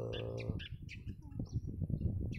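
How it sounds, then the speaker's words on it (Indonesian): A starling, out of its cage in a garden, calls back with short chirps and whistles after a voice calls out to it. "Jadi semakin kencang kita manggilnya semakin kuat dia nyaut."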